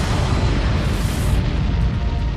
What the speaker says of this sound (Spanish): Un rayo gamma estalla. Se trata de la explosión más grande conocida en el universo.